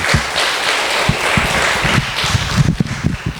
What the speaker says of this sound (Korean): 우리 그 정태성 장로님, 우리 백경현 권사님, 이원수 권사님, 하여튼 감사드리고 우리 이분들께 감사의 박수를 다시 한번 드리겠습니다